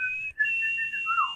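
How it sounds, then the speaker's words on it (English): A person whistles a short, clear, fairly loud tune alone, a brief break, then a sliding note that falls away at the end. "if you need us, just whistle"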